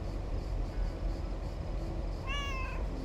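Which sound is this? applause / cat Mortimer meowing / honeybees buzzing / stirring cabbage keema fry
cat Mortimer meowing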